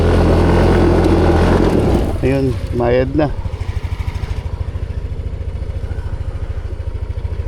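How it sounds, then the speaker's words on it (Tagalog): Dirt motorcycles labor to climb out over loose, crumbly rock near a waterfall: a loud, steady engine drone breaks into a low, rapid thumping idle as the bikes bog down, with voices calling briefly over it. "medyo nahirapan palabas yung mga motor namin dahil talagang buwaghag yung kabatuhan"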